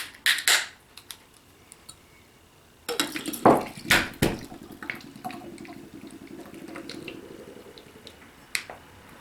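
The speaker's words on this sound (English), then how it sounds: "And pour hard into a glass." Sail Away Sleigh Ride Nitro energy drink poured hard into a glass: a clattery glass knock, then a brief splashing pour with fizzing drips and small clinks that fade to a quiet bubbling tail, close and fairly loud.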